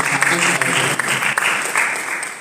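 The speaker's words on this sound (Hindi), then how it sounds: "ताली मार के धन्यवाद देंगे।" A congregation at a Sunday church service claps together in a dense, continuous burst of applause that stays loud throughout, then eases slightly at the end.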